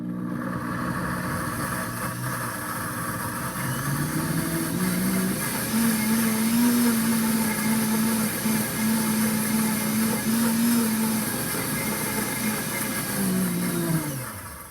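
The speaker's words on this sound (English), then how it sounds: "And we're going to pulse this until it's really mixed together and the onion juices have come out." A food processor whirs steadily, pulsing chopped onion with paprika, salt and pepper, its motor holding a fairly loud, even drone for several seconds before it winds down.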